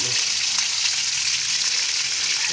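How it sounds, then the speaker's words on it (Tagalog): Fish sizzles and crackles steadily in hot oil in a frying pan, a loud, close, continuous hiss with no break. "tapos ko lang po magbaliktad ng piniprito"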